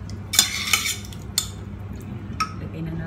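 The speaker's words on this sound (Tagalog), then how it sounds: "halu-haluin natin para mas malasa na yan" A spoon scraping and clinking against a pan while beef and radish cook in a soy sauce, sugar and flour sauce, a few distinct metallic knocks spaced apart over a low background hum.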